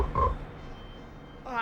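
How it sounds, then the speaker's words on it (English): Big frog croaking as a tabletop fantasy roleplaying game sound effect, with one short deep croak near the start and a faint rising call at the end, over low background noise. "So unfortunately, this big old frog grabs a hold."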